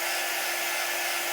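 A hair dryer blows steadily on chalk paste, a constant close whoosh with no pauses and no talk.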